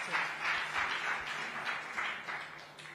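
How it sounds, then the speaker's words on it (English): A large audience at the SheShakti 2025 event claps steadily in a sustained round of applause welcoming a guest, an even crowd texture that stays loud throughout. "A big round of applause."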